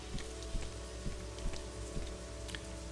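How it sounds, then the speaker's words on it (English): Steady rain in a video game patters on a surface with soft droplet taps, quiet and continuous with no voices. "Why are these people out in the rain?"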